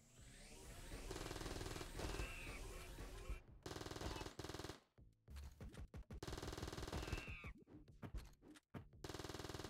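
Rapid automatic gunfire from a video game crackles in dense bursts, broken by short pauses, with layered shots and clinks over game music.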